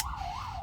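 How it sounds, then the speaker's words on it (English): An ambulance siren wails outside in a steady rising and falling sweep, fairly loud and continuous across the whole moment, with no talking over it. "I got ambulance going behind me."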